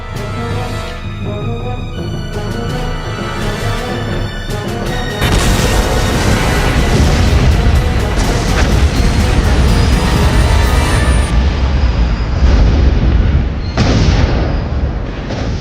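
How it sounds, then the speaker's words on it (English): A train slams into a tanker truck at a Fort Lauderdale crossing and explodes, a sustained loud roaring blast of broadband rumble and crashing that swells midway and continues with bursts and pops. "the train slams into the tanker truck and explodes"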